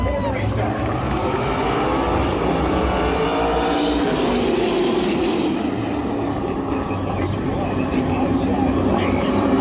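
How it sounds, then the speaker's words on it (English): A large drone flies over a short-track race circuit, its droning motor hum mixed with loud, continuous race-car engine roar and crowd noise, with voices talking over it. "That drone is massive"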